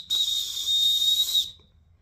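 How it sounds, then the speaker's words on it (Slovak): A handmade willow bark whistle gives one shrill, steady high tone of about one and a half seconds, close and clear against a quiet background. "To bol zvuk prvej tohtoročnej píšťalky"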